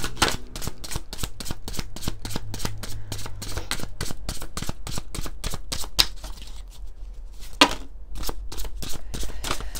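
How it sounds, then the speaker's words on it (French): A deck of oracle cards gets shuffled over and over in quick, crisp riffles close to the microphone, with a brief sharper snap near the end. "on va prendre quelques cartes de l'oracle du monde"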